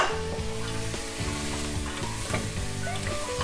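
Celery, onion, carrots and garlic sizzle steadily in hot oil in a pan for lentil and vegetable soup, a close, continuous frying hiss with no talking.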